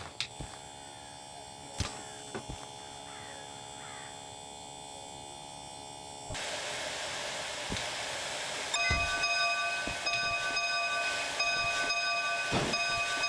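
In the Derail Valley simulator, an S282 steam locomotive shunts cars with a low rolling rumble and scattered clanks and knocks, then a steam hiss that rises in two steps and grows louder toward the end.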